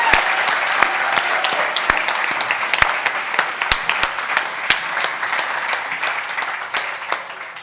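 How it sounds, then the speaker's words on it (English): An audience claps at an anniversary celebration for a basket company, a steady, fairly close applause with sharp individual claps standing out, fading slightly toward the end. "Let's give them a big round of applause."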